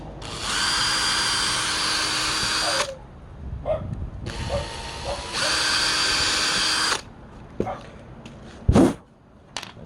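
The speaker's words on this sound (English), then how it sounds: "You can use these 2 holes in the jig now to drill the pilot hole for the" A power drill bores pilot holes for a caravan door hinge through a 3D-printed jig in a 1978 Millard Mini Pop Top, with two long close whining bursts and then clicks, knocks and a sharp clatter.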